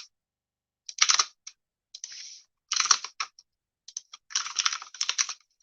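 A clacky, noisy computer keyboard typed on in quick irregular bursts of close, crisp keystrokes separated by short pauses, with no talking.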